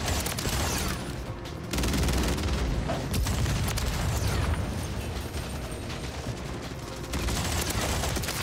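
Sustained gunfire in Call of Duty MW3, with an MTZ 556 loadout in play, fills the scene as a dense, continuous clatter of rapid shots, explosions and mechanical noise, fairly loud with brief dips.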